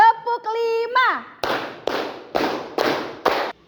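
During a classroom ice-breaking game, a voice speaks briefly, then five crisp, evenly spaced claps follow about half a second apart, loud and close, with the final clap cut short.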